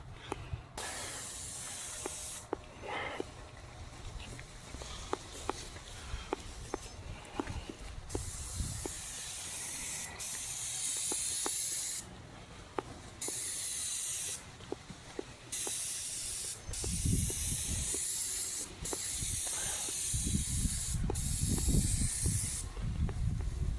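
A paint sprayer hisses steadily in long bursts with brief pauses while spraying a house exterior, accompanied by mechanical clicks and low rumbling nearby.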